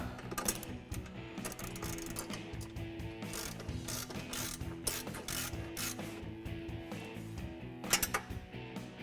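A wrench works a nut onto a bumper-mounted light bar bolt on a Jeep Wrangler, giving quiet metallic clicks and ratcheting ticks in uneven bursts, with louder clanks near the end.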